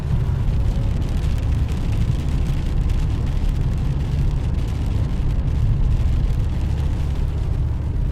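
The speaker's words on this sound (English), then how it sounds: "It's the sound of rain on the windshield here in the car" Rain drumming on a car windshield while driving in the desert of Saudi Arabia, a dense continuous patter over a low road rumble, steady and close throughout.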